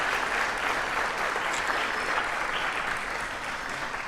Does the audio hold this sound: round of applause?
yes